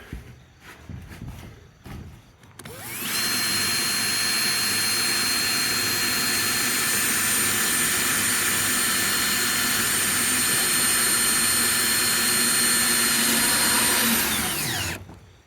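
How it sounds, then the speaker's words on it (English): A power drill drives screws through two layers of metal roofing in one long, steady high-pitched whine for about twelve seconds, starting and stopping abruptly, loud and close. "trying to drill through 2 layers of this metal, it's pretty hard"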